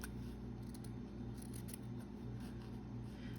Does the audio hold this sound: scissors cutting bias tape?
yes